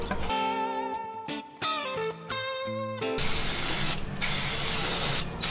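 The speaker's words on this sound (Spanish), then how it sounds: "Ahí está limpia, freno a chorro siempre." Brake cleaner spray sprays onto a car part during a transmission and differential oil change. After a few seconds of steady tonal whining, a loud continuous aerosol hiss bursts in close by and runs to the end.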